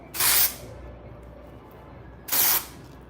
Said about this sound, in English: I just spray this on my scalp.